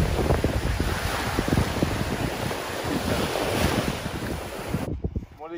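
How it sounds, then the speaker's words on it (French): Strong wind buffets the microphone on a sunny beach in Crete, a loud steady roar with surf washing underneath, dropping away sharply near the end. "Il y a du vent, mais c'est magnifique."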